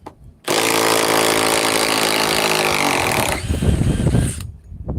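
A compact cordless impact wrench, a model that overheats less readily than the Milwaukee Gen 2 stubby, runs loud and steady for about three seconds, then winds down under some nearby noise and handling sounds.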